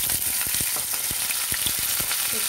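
Onions sautéing in two spoons of hot oil for a chilli paneer gravy, a steady close sizzle with soft scattered taps and crackles throughout, no voices.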